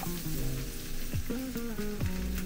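Kutabs sizzle on a hot frying pan with almost no oil, a steady close crackle. A separate tonal melody runs over it with gliding pitched notes, likely background music.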